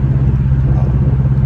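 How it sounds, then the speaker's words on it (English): A Ram pickup truck idles after a wiring repair, its engine giving a steady, loud, close low rumble with an even throb and no change in pace. "truck's running great"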